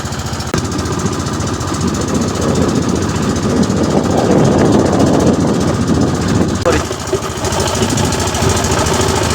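A boat's engine thrums steadily and loudly on a river journey, a constant low mechanical rumble with faint voices partly audible beneath it.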